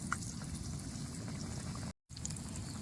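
Pumpkin fritters coated in gram flour batter fry in hot oil, a continuous soft bubbling sizzle that stays low and even, broken by one very brief dropout of silence.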